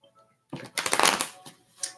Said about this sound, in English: I'm just shuffling them again so you can see that I do shuffle.